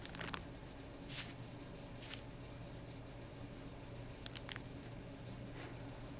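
Foley percussion layer in an electronic track, a sparse scatter of soft rustling, clicking and rattling hits in loose rhythm, faint and close over a low noisy bed, with no talking.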